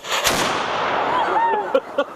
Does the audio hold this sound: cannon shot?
yes